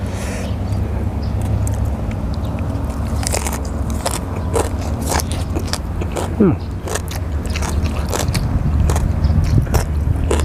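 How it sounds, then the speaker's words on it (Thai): Crunchy chewing of som tam papaya salad with pickled shrimp and fresh garlic stalks, close and loud, with repeated bites over a steady background hum and faint voices. "ได้กินโดนแล้วกับต้นกระเทียม ลองดู"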